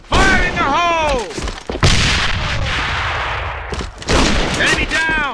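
Grenade blast and rapid gunfire from the shooter game AVA ring out loud and close, with sustained rumbling fire under a voice speaking in bursts at the start and end.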